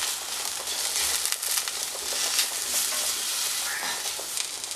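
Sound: spice masala with curry leaves sautéing in pan

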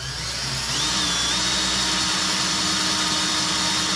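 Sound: small wind turbine generator spun up at low speed

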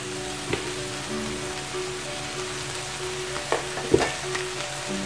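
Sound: stirring carrot halwa with milk powder in a pan

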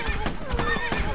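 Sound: horses neighing in video game Medieval Defenders

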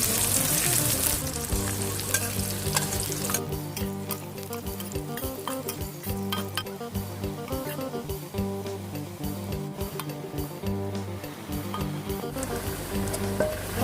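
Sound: shallots frying in hot oil in a pan

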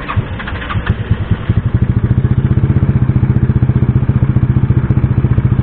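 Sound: motorcycle engine idling while warming up

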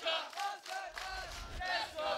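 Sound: crowd cheering at Tekken tournament

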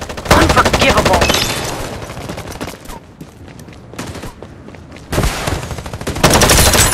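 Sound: gunfire in the video game Farlight 84

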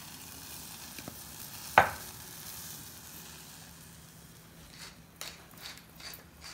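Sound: tomato sauce with olive oil cooking in a pan

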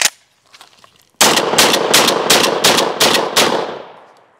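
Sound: 12 gauge shotgun firing seven rounds

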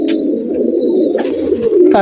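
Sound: pigeons cooing

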